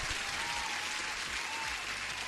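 Applause sound effect played during a live trading stream, a short, even burst of clapping lasting about two seconds at moderate level, heard alone without speech.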